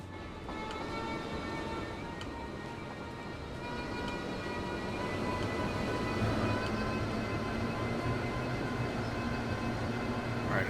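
A loaded freight train hauling bricks rolls along in the transport simulation game Transport Fever 2, giving a continuous low rumble with steady tonal hum that grows slightly louder over about eleven seconds, with no talking.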